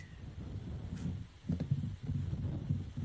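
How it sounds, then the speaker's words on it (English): Wind buffets a microphone on the Palin Creek hillside, making faint, low rumbling gusts that swell and fade unevenly. No one speaks. "it's the sound of the hillside, and it's the sound of the wind on the microphone"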